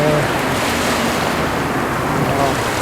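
Surf rolling onto Zaimokuza beach in Kamakura on a clear autumn day after a typhoon, a continuous loud wash of waves mixed with wind buffeting the microphone.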